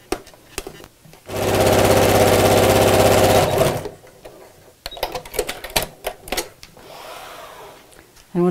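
A sewing machine stitching fabric pockets for a laptop bag, one loud close burst of fast even whirring for about two and a half seconds, framed by fabric handling, clicks and rustles.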